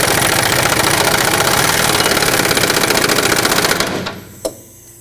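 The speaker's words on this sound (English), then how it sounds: "Hopefully once I tighten up the nut, it will kind of pull itself in." A nut is tightened on the rear toe arm of a 2005-2010 Pontiac G6: a loud, rapid, continuous mechanical clatter runs for about four seconds, then stops, and a single sharp metallic clunk follows.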